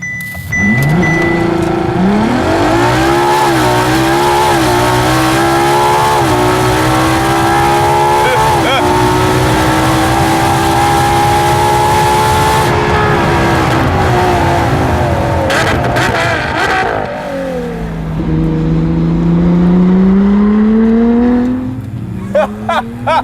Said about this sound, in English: I'm gonna hit the launch button, go full throttle, and then release the brake